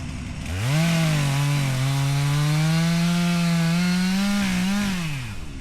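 Chainsaw cutting small trees while clearing a fenceline, one steady loud engine whine under load that holds for several seconds, then its pitch drops as the cut finishes.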